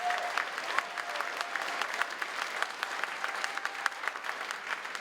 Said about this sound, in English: A massive round of applause to our finalists